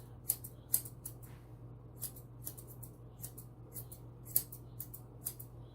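Grooming scissors snip through a standard poodle's topknot in a quiet room, with a series of crisp, close clicks at an irregular rhythm against a low steady hum.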